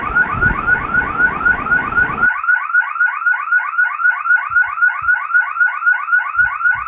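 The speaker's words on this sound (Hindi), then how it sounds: "ये जैसे ही मैं इस पे आया तो ये अलार्म बजने लग पड़ा" A loud electronic alarm from a Hikvision security recorder wails in a rapid repeating warble, continuous and piercing, with a few faint thumps beneath it.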